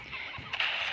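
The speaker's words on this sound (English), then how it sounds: "Oh, those are geese, though." Geese honk briefly close by, a short burst of nasal calls over a steady outdoor background, with a voice murmuring faintly underneath.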